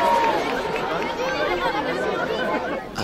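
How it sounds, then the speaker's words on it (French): A large crowd waits outside a town hall for Prince Albert II of Monaco, a steady close hubbub of many overlapping voices chattering at once, with a short sharp noise near the end. "Dehors, une foule nombreuse, armée de petits drapeaux rouges et blancs, attendait le prince"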